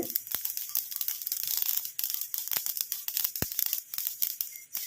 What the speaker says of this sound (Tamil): இப்போ பாருங்கள் கடுகு நல்லா பொரிஞ்சிருச்சு